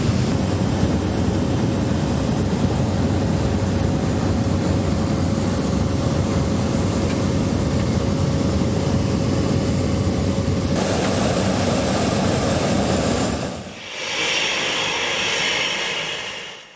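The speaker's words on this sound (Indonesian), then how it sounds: "Pesawat Cessna milik maskapai penerbangan swasta ini mampu mengangkut 12 orang penumpang." A loud, steady Cessna propeller plane engine drones close by for most of the stretch, then dips briefly and returns with a higher, whooshing tone.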